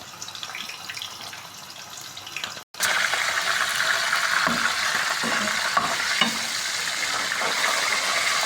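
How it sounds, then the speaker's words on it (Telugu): Fish fries in hot oil with a close, steady sizzle that breaks off briefly and then returns louder and harsher, with occasional stirring clinks. "చూడండి ఈ చేపను ఇప్పుడు నూనెలో వేయించాను"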